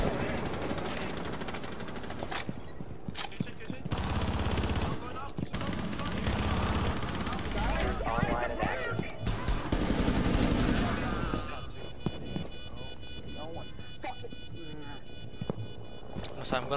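Bursts of gunfire fired through a wall in Rainbow Six Siege sound as rapid sharp volleys with gaps between them, mixed with game effects while players talk over the shooting.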